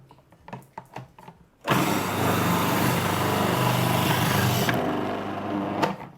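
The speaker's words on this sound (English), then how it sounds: "I just want to show you how my Magic Mix actually shred this up" A Magic Mix food processor shreds turnip for a dim sum radish cake, a loud steady motor whir with grinding blade noise running for several seconds after a few brief clicks and knocks of the lid being fitted.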